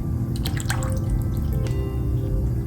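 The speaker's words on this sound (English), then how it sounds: "I think I'm gonna add some more water," Water poured into a pot of chicken tortilla soup, a steady trickle with a few splashy drips, fairly close and continuous.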